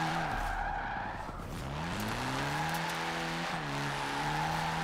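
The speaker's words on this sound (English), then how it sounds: "It is just smoking the tires in all gears. Fifth gear clutch drop, and it's just ripping tires." A car in Forza Horizon 4 doing a wheelspin and smoking its tires, a continuous loud tire screech over a droning engine whose pitch dips and then climbs steadily, alone with no talk.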